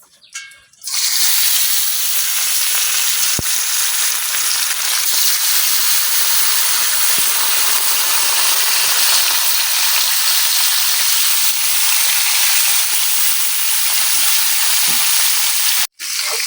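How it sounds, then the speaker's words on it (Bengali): Tilapia fish sliding into hot oil, starting with a sudden loud burst of sizzling that settles into a steady, dense frying hiss and carries on for many seconds, close to the pan, with no talking. "তেলটা কিন্তু গরম হয়ে গেছে এখন আমি মাছগুলো দিতেছি"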